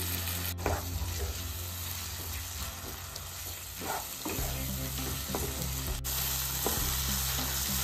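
Whisked sour yogurt going into spiced masala frying in a pan for mutton curry, with a steady close sizzle and a spoon stirring and scraping through the mixture, no voices.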